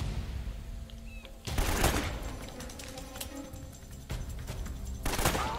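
Gunfire bursts from the video game Uncharted: Drake's Fortune, with loud rattling volleys in two main clusters, broken by a quieter stretch of game ambience.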